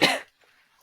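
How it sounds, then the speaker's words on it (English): One short, sharp cough bursts out close to the microphone, followed by near silence and a faint breathy sound at the very end. "Apologies if we're coughing and sniffling."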